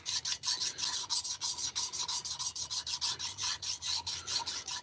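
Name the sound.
sanding piston cylinder sleeve with 120 grit sandpaper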